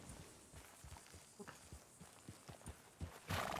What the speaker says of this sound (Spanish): Son dos grupos de caballos